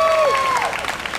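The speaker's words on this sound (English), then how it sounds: "can we first actually get a round of applause for MSA for putting on this event" Audience applause for the organizers of a talk on immigration and dialogue. It rises after a brief high ringing tone, a steady wash of many hands clapping that fills the short moment at moderate loudness.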